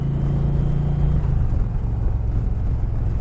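An Indian Challenger Dark Horse V-twin motorcycle from 2020 on its stock exhaust gives a continuous deep, throbbing engine rumble that sounds close and steady throughout, with no voices over it.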